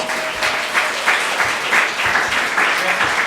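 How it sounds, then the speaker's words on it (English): A crowd at the Houston Hackathon 2017 applauds the Safest Route Houston team: sustained, fairly loud clapping from many hands that swells in rhythmic pulses, with some voices mixed in. "Give them a round of applause."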